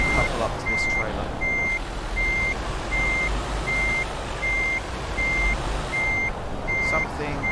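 Evenly spaced, high reversing beeps from a truck in Euro Truck Simulator 2 repeat steadily over a constant engine drone.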